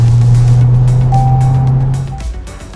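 A Skoda Octavia RS engine pulls hard onto the main straight of a race track, a loud steady drone that holds and then drops away near the end, with no talking over it.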